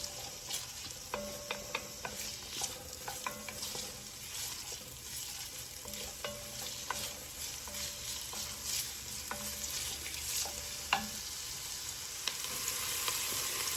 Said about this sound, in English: We're just going to saute our onions until they're translucent.